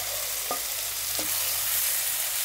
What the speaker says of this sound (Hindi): टमाटरों को भी हमें बहुत अच्छे से भूनना है।